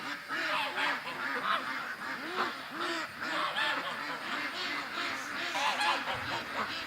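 A flock of ducks quacking nonstop, dense overlapping calls that sound fairly close and steady throughout, with no talking.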